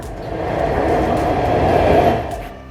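A modern metro train in Lahore runs steadily past, a continuous low rumbling roar with rail noise that swells and holds for a few seconds before easing slightly, with no voices.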